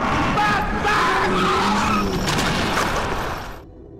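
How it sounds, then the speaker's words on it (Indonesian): Car tearing away in a film scene, tires skidding and squealing loudly over a revving engine for several seconds before cutting off abruptly near the end. "Jimmy naik ke mobil dan tancap gas"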